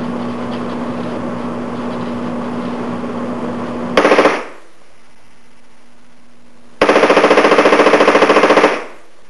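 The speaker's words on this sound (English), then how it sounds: "That was 32 rounds bump fired from the shoulder." Rifle bump fired from the shoulder, rubber band assisted, loosing two dense bursts of rapid, loud gunshots close by, the first running about four seconds, then a short pause, then a second burst of about two seconds.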